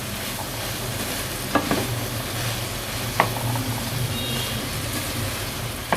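Okra being stirred and fried in a pan for garlic bhindi makes a loud, steady sizzle and hiss, with a few spoon scrapes and knocks breaking through, no talk.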